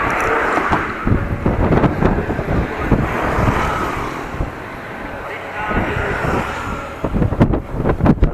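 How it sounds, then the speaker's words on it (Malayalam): Strong gusting wind buffets the microphone outdoors near a bridge under rain clouds, a loud broadband roar that rises and falls in bursts throughout. "നല്ല കാറ്റുണ്ട് കേട്ടോ"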